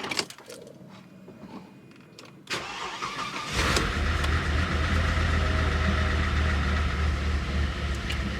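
An old car's engine cranks and catches after a pause, then runs loudly with a rough, uneven misfiring idle close by in a workshop.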